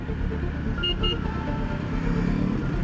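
A 2018 Ducati Multistrada 1260 S is being ridden. Its engine gives a steady, loud, low rumble with constant wind noise, heard close up and alone for a few seconds.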